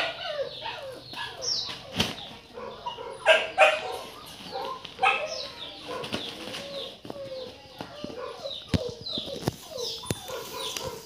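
A Bac Ha dog yelps, whimpers and gives short barks, with close whiny cries and sharp bursts scattered irregularly over a continuous stretch, plus some rustling and clatter around it.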